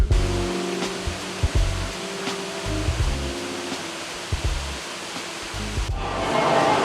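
An indoor mall water feature rushes continuously in a steady broadband hiss, with low thumps and hum from the busy mall underneath.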